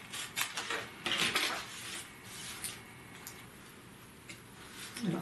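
Small parts for a miniature three-level Japanese house being cut by hand, giving light irregular clicks and scraping taps, close and fairly soft, with no talking.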